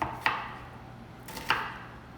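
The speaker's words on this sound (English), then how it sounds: "So we have a little small onion that we're gonna chop up again." A knife chopping a small onion on a cutting board: two crisp, separate chops about a second apart, close and clear against a quiet background.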